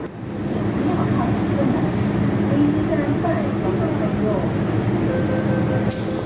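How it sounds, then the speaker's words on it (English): A Hong Kong MTR 2C M-train subway runs in steady motion, a loud continuous rumble and rail hum heard from inside the car, with voices speaking over it. "Oh, it's a 2C M train."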